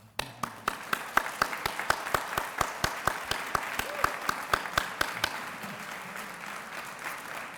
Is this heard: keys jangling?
no